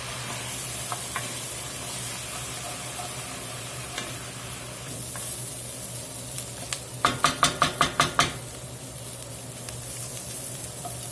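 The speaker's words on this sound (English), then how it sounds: "I'm going to go in with a little more white wine, get that deglazed." Vegetables and onions sizzle steadily in a pan as white wine is added to deglaze, a constant hiss with a short run of quick scraping stirs near the end, no talking.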